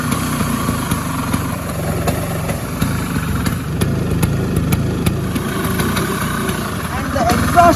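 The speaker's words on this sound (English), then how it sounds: "So now you can hear the engine is silky smooth because we have built this engine from scratch" A restored 1993 Bajaj Chetak two-stroke scooter engine idles with a steady, rapid, slightly rattly putter, close and continuous, over someone talking throughout, with a small rise in revs near the end.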